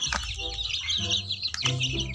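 Chicks and chickens on a farm, a cluster of repeated high cheeping and clucking calls, fairly close and continuous, with no talking.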